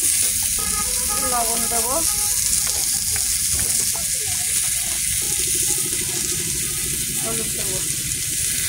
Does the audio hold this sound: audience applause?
no